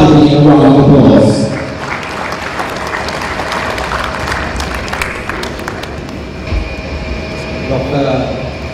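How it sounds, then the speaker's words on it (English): An audience at a college graduation ceremony claps in a short burst that quickly fades, followed by an announcer speaking over the hall's sound system. "give an honorable Rishad Bathiudeen a round of applause"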